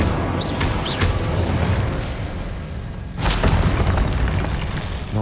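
Roaring fire spell blast in the Hogwarts Legacy wizard game, a loud continuous booming whoosh throughout, with a sharp burst near the middle and faint chimes early on.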